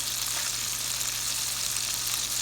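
Steak sears in a hot pan with butter, a steady close sizzle and crackle of frying that holds evenly throughout without any voices.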